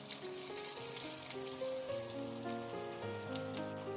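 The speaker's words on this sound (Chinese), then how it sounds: "炸至四周都是金黄的" Potato hot dogs deep-frying in hot oil, a steady bright crackling sizzle that fills the whole stretch at moderate level, with no talking.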